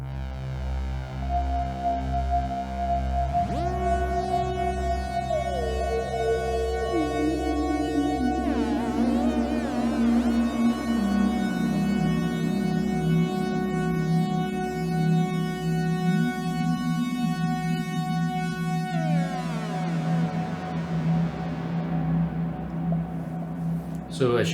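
A Korg Modwave synth, played through an Osmose MPE controller, holds a steady buzzy sawtooth layer while a pure sine tone glides smoothly down past it in slow steps, sustained and loud with no talking.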